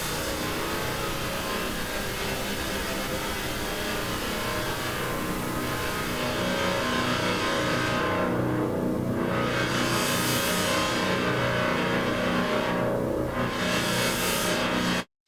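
A Hive 2 synth patch with a resonant filter sweep gives a dense, continuous wash of dissonant, metallic tone. Hollow notches slowly sweep through it for about fifteen seconds before it cuts off abruptly, with no voice over it.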